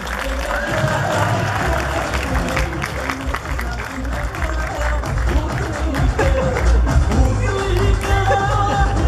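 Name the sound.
applause welcoming a guest on stage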